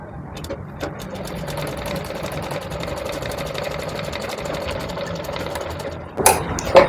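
A sewing machine runs steadily while stitching a blouse hem for about six seconds, its rapid needle rhythm continuous and close, then stops with a few handling clatters at the end.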